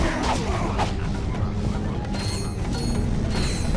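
A large bolt-grinding obstacle mechanism in Ratchet and Clank 3 grinds and clanks with ratcheting metallic clatter and occasional crashing hits, loud and continuous.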